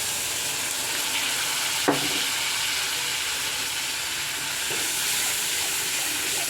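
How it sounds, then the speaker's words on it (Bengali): Water is poured into a hot pan of cooking food, and a loud, steady sizzle hisses throughout the close, continuous frying sound. "এবারে দিয়ে দিচ্ছি আমি সামান্য পরিমাণ জল।"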